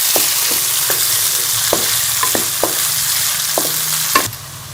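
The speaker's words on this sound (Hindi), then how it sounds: "इसमें हम प्याज शामिल कर लेंगे और प्याज को हल्का सा सॉफ्ट कर देंगे" Chopped onions and cumin seeds frying in oil in a pan, a steady sizzle with a handful of sharp stirring scrapes and clicks spaced through it, close and fairly loud, ending in a louder clatter.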